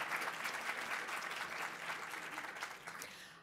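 An audience at a women-in-politics panel discussion applauds the seven panelists, a soft, steady wash of clapping heard from a distance that tapers slightly toward the end.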